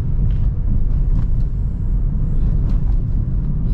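A continuous low rumble of car tires rolling over a poured concrete road, steady and loud from inside a Suzuki Ertiga, with no voices.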